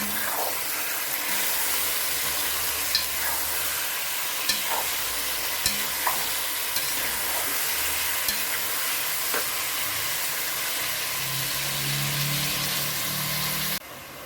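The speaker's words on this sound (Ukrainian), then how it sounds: "І теж на швидкому, на великому вогні підсмажується." Steady hissing sizzle of eggplant and carrots frying over high heat, with occasional clinks and scrapes of a spoon stirring in the pot, no voices.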